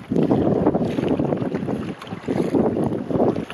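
A kayak paddled through waves on a Great Lakes trip among the Apostle Islands out of Bayfield, heard as rushing water and splashing strokes in a steady rhythm, mixed with heavy wind buffeting the microphone.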